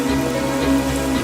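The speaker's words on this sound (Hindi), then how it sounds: "और करेक्ट टाइम पे बरसात हो गई" Rain falls steadily in a continuous, loud, even wash with a low hum beneath, no voices present.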